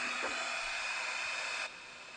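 A heat embossing tool blowing hot air, a steady close whooshing hiss with a faint whine that drops abruptly to a lower level near the end.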